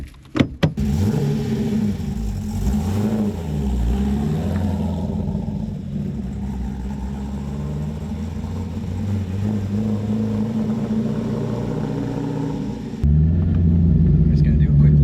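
A 500-horsepower C5 Corvette on a race track, its engine a loud, close, steady rumbling drone that swells at the start and steps up louder near the end, with faint talk inside the car.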